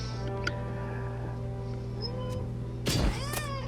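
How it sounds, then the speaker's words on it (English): A fat cat in a video game meows for treats over a steady electronic game hum, one clear drawn-out meow near the end. "We got a fat cat who's begging for treats."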